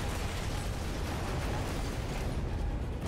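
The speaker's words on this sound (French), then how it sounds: "Ça fait beaucoup d'explosions." Rapid explosions from the Jump Force fighting game fill the stretch as a dense, continuous roar of overlapping blasts and bursts, loud and unbroken throughout, with no talk over them.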